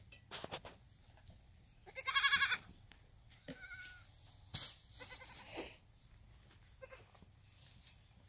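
Nanny goats and kids bleat several times at varying distances, one loud clear call standing out, amid quiet rustling and a few thumps.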